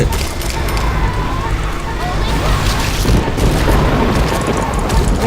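Loud, dense rumbling booms and crashing blasts from explosions in the video game Saints Row 2, continuous throughout, with a voice talking excitedly in Thai over them.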